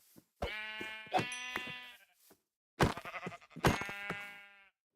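Sheep bleating in the Minecraft video game, two separate drawn-out wavering bleats with a pause between them, loud and close with no talking over them.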